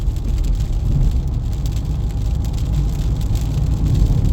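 Rain falls on a car while it is driven on a road with a posted 55 mph limit, a steady hiss and patter on the body blended with a continuous low road rumble, close and unbroken.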